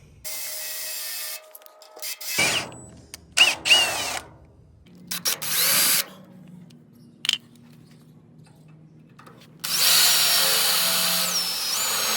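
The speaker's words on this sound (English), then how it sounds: "we're going to go ahead and put some metal screws and screw it right into the trailer frame" A power drill whirs in several short bursts driving metal screws into a trailer frame, spinning up and stopping, with scraping and rubbing sounds between runs and a louder sustained grind at the end.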